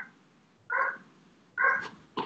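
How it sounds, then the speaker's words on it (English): A dog barks three times at a moderate distance, short separate woofs spaced about a second apart in an otherwise quiet room. "Can you hear my dog barking?"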